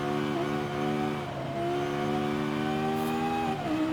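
A race car in the Forza Horizon 5 video game drives through corners with a loud, continuous engine whine that dips and climbs as it brakes and accelerates, with no voices over it.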